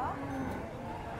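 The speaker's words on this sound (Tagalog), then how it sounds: "hanggang dito pa pala yung mga kalabaw na nabili ni Pararo" Water buffaloes at a livestock stockyard low faintly, a drawn-out bovine call over steady background noise, with a brief murmur of voices in the mix.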